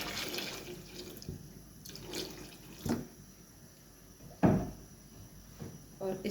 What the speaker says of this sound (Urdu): اس میں ہم جو ہے وہ پانی ایڈ کر دیں گے